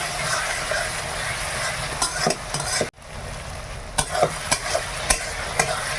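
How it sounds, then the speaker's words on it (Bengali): Ginger-garlic paste and spices fry in a pan for a mutton curry, with a soft sizzle under repeated sharp spatula scrapes and knocks that come close and at irregular intervals. "ভাজা যে মশলা ভাজার সময় কিছুটা দিলাম।"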